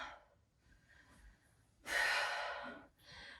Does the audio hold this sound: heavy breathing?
yes